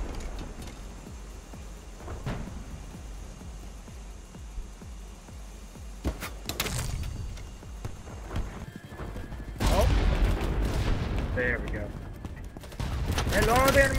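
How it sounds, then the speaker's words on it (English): Sharp gunshots crack out during a BattleBit Remastered firefight, a few loud isolated reports from sniper fire standing out over rumbling in-game noise and scattered movement sounds. "We're getting sniped at now."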